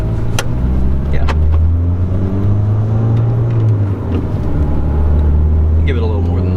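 Modified VW Golf GTI MK6 engine droning loudly and steadily inside the car under throttle, a low, continuous hum with rising harmonics, while people talk over it.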